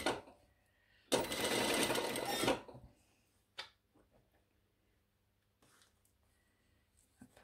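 A sewing machine runs in one steady burst of about a second and a half while stitching a hem on a blouse, then stops, leaving quiet handling noises and a few faint taps.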